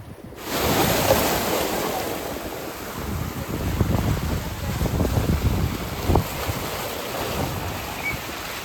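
Sea waves at a Mangalore beach roll and wash steadily nearby, a broad continuous rushing surf with gusts of wind buffeting the microphone; no talking.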